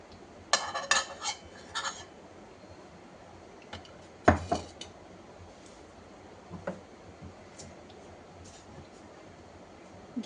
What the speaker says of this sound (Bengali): প্রথমে একটুখানি এই যে আধা চামচ ঘি দেব